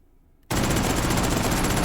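A Mauser carbine fitted with a muzzle brake fires in the VR shooting game H3VR. After a half-second of near silence, loud, close, continuous rapid gunfire starts abruptly and runs to the end.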